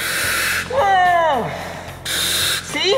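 A firefighter breathes through an air tank mask, producing two sharp, breathy hissing bursts with a short pause between them. An excited voice is heard between the bursts.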